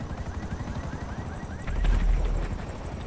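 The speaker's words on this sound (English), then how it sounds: "Rotten, now you're in a fucking helicopter." Steady helicopter rotor thumping with a rhythmic low pulse, swelling louder midway, amid game effects in Grand Theft Auto V.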